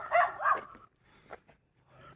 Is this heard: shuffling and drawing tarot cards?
no